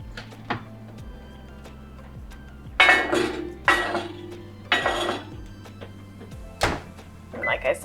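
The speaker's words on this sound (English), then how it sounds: "Our 3 loaf pans are full, and so I'm gonna throw these in the oven." Three loaf pans of banana bread slide onto oven racks, with metallic thunks and clinks. A steady hum runs underneath and a couple of louder clatters come as the oven door closes.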